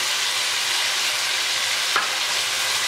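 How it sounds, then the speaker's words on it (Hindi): Onions and tomatoes fry in a pan with a steady, even sizzle that holds for a few seconds, close and moderately loud, with one brief scrape of stirring near the end. "इसको हम तकरीबन 2 मिनट तक इसी तरह फ्राई करेंगे।"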